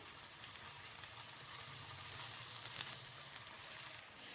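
Chicken seekh kebabs fry in a pan over medium-low heat with a continuous soft, crackling sizzle, heard close and on its own.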